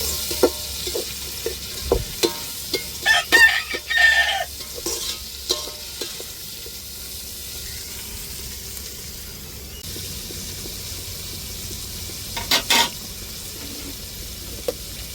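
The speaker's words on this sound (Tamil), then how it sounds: "இப்போ தக்காளி சேர்த்துக்கிடுவோம் தக்காளி நல்லா வதங்கட்டும்" Chopped tomatoes are added to onions sautéing in a pan, with a constant soft sizzle and several sharp scrapes and clinks of a spoon as they are stirred, a quieter stretch of frying between bursts of stirring.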